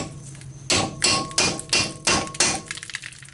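A hammer strikes a chisel to stake a CV axle nut into its groove, six sharp metallic blows in a steady rhythm, close and loud, followed by a few lighter taps.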